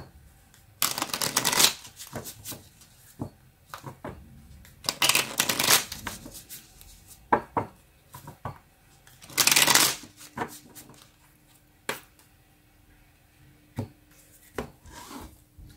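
Tarot cards are shuffled close by in several quick riffling bursts, separated by softer taps and rustles as the deck is handled.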